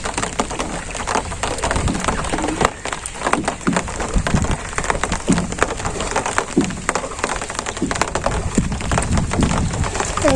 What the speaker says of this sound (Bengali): বৃষ্টিটা জুড়ে নেমে গেছে গা ওই যে টপ টপ